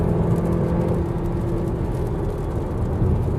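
A 2021 Audi Q3 Sportback Quattro in manual mode and third gear climbs a wet mountain road in the rain, its steady engine drone and tyre hiss on wet tarmac continuous and close from the cabin.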